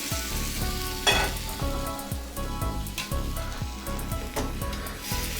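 Reduced stock poured over sizzling onions in a pan for Kazakh lamb and noodles, giving a steady, close bubbling sizzle with a sharp burst near the start and light stirring knocks throughout, with no talking.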